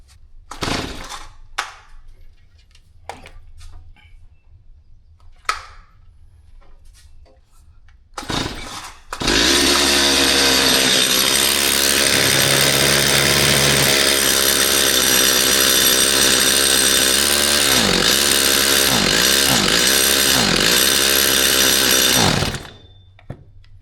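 A Stihl MS250 chainsaw with a bar oil leak starts after scattered knocks and handling sounds, then runs loud and close with a steady engine drone. Its revs rise and fall several times before it cuts off abruptly.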